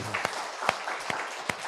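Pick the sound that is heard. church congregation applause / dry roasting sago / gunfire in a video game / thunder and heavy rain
church congregation applause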